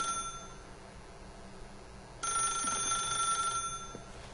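A telephone rings in The Stanley Parable video game, a steady electronic ring that grows louder and brighter partway through, heard alone at a fairly low level against quiet room tone.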